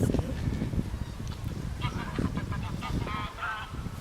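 Ducks honk and quack in short repeated calls at moderate distance on the River Don in Doncaster, while a person talks over them.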